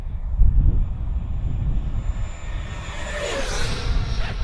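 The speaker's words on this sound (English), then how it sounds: "Now we'll do a full throttle pass into the wind." An FMS Super Scorpion 90mm EDF model jet makes a full throttle pass into the wind, a loud steady turbine-like roar and rushing whine that swells and shifts pitch as it passes, with constant wind noise throughout.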